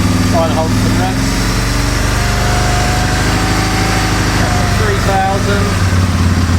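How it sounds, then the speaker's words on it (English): Aprilia motorcycle engine held at raised revs while its fuelling is tuned: a loud, buzzing engine note held close and steady, with small rises and dips in pitch, running without a break. "Try and hold some revs."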